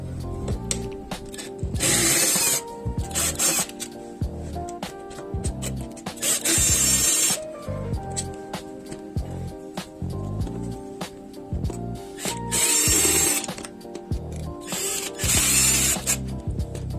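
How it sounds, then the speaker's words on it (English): A power drill works the screws free from a Mazda CX-5 or Mazda 6 infotainment screen, with several loud whirring bursts of a few seconds each, separated by clicks, rattles and the handling of small parts up close. "The screen itself is connected with several screws, so I'm gonna remove them now."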